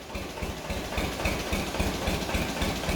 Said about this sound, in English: And that's her idled right down.